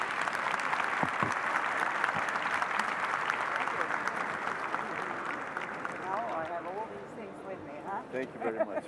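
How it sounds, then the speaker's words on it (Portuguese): An audience at a climate-agenda event in Pará, Brazil claps in a dense burst that gradually thins, then people start talking over the last scattered claps. "Um aplauso para ambos,"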